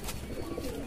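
Pigeons coo softly in a loft holding three breeding pairs, a low, steady murmur of overlapping calls with no talking.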